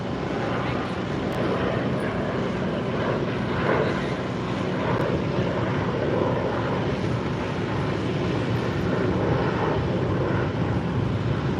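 An airplane departs from DCA airport with a continuous broad engine roar that stays loud and steady throughout, heard from nearby, with faint voices mixed in.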